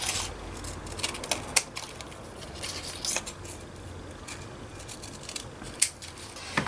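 Scissors snip around a shape cut from paper for a handbag journal cover, giving a series of close, crisp cuts and small rustles, with sharper clicks of the blades scattered at irregular intervals.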